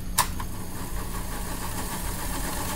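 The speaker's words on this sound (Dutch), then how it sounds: "De motor is nog wat stroef." Small electric motor of a Fleischmann NS Sprinter model train running stiffly, a steady low hum and faint rattle that starts just after a sharp click and holds at an even level throughout.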